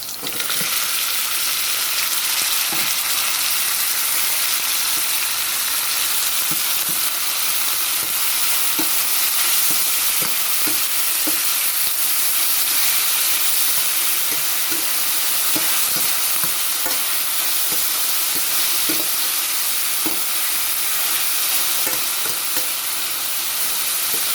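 Mixed vegetables stir-frying for noodles produce a loud, constant sizzle and hiss, with regular light clacks of a utensil tossing them throughout. There is no speech.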